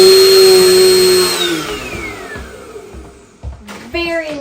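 A Dirt Devil Dynamite vacuum cleaner stands upright and runs with a loud whine, then winds down as the motor pitch falls. Voices start talking near the end.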